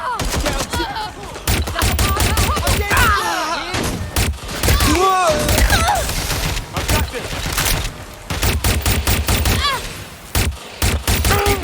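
Rapid gunfire in the video game Watch Dogs Legion, dense bursts of automatic shots and heavy impacts hammering repeatedly at close range, with shouted voices mixed in amid the combat.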